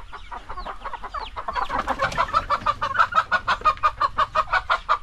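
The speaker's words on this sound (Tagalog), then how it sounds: "Natakot yung mga manok, oh." Frightened chickens cluck loudly and close by on a rural property, first as a few scattered calls, then as a rapid, rhythmic run of agitated clucks that continues to the end, with no talking.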